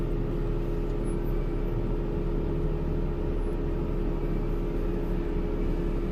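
A Jeep crawls in four-low down over the rocks of a trail rock garden with the driver off the throttle, a steady low engine drone and rumble continuing without a break, with no voices.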